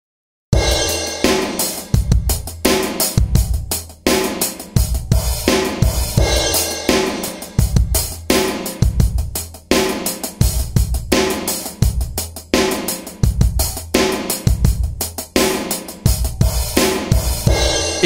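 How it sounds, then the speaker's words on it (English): A processed drum kit with Battery 3 master effects plays a steady beat: punchy kicks and snares with sizzling cymbals, loud and continuous, with no talking. "Your master drum kit should now sound like this."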